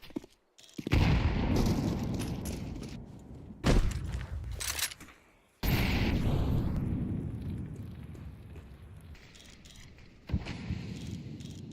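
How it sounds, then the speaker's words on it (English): A grenade bursts on the mid smoke during a Counter-Strike 2 esports match, one of several loud, sudden blasts and gunfire bursts heard through noisy stretches of broadcast audio. "you hear that nade on the mid-smoke"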